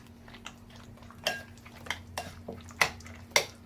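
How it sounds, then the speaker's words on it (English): Rice with dried mint and a pinch of salt is stirred in a pot, a utensil striking and scraping the metal in about five distinct clinks, fairly close, amid faint background hum. "Now we're going to stir this"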